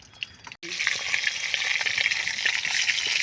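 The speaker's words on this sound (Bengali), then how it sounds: "মাথা ভাজাটা হয়ে গেছে" Katla fish head frying in a pan for muri ghonto, a loud steady oily sizzle with crackling pops that starts abruptly after a brief quiet moment and continues close up without talk.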